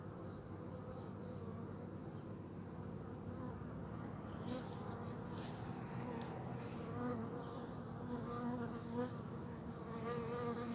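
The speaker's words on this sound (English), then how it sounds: "Oh, fighting off these yellow jackets still." Dense, steady buzzing of many bees and yellow jackets close by at a beehive, with individual insects droning louder as they fly past.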